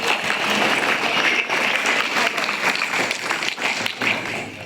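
Sustained applause from an audience at an Independence Day event at a girls' madrasa, dense and steady throughout with a slight dip near the end and some voices underneath.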